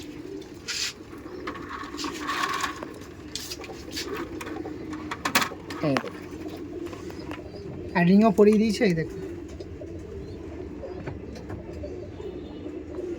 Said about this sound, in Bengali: শুধু লফটে দেখুন পায়রার ওপরে পায়রা, পায়রার ওপরে পায়রা